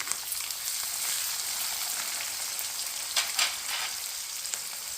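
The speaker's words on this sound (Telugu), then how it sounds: "ఆనియన్స్ యాడ్ చేద్దాం ఇప్పుడు వేపుకుందాం" Chopped onions frying steadily in hot oil in a pan for semiya upma, a constant broadband sizzle with a few brief louder crackles and stirs, close and fairly even throughout.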